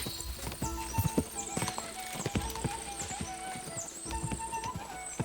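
Hooves of a galloping horse in Kingdom Come Deliverance II pound in a quick, steady clip-clop rhythm, moderately loud and close, with a faint whinny.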